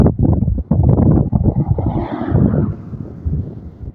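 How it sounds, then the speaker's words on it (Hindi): Cool wind buffeting a microphone on a motorcycle travelling along a motorway, loud gusty rumbling and fluttering that surges and eases over several seconds, with some road and engine noise mixed in. "आज तो माशाल्लाह मौसम भी बहुत अच्छा है और ठंडी हवा चल रही है।"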